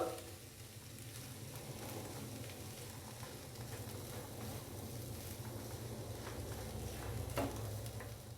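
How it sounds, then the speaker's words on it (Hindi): Boiled mashed potatoes and chana dal being mixed with a spatula in a pan of spices for samosa filling, giving a steady close sizzle with soft scraping strokes, continuous with no talking. "तो अभी स्पैचुले की मदद से हम इनको अच्छे से मिक्स कर देंगे बड़ी एहतियात के साथ।"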